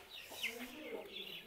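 Soft, brief clucking from a six-toed chicken in a mountain village, faint and close, a couple of short calls over quiet background.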